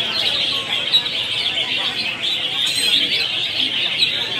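Red-whiskered bulbuls sing constantly from many cages at a large bird contest in northern Vietnam, a dense bright chorus of chirps and trills over a steady murmur of crowd chatter.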